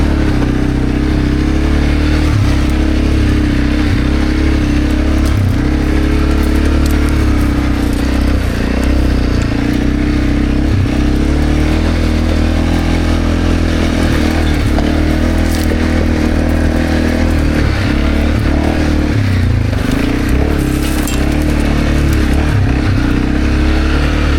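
A Segway AT5 500 quad bike drives across a rice field, its engine droning steadily and loud throughout with rough rumbling and occasional clattering bumps, close to the listener.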